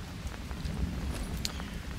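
Steady rain in the jungle survival game Green Hell: a soft, continuous hiss of falling water with scattered light drops and occasional faint taps, no voices.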